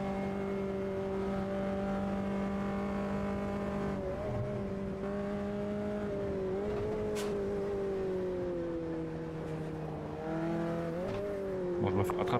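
A race car engine held at full throttle in the Automobilista 2 sim, a steady loud drone with slight pitch shifts as the car changes gear and corners, and a brief tire squeal near the end.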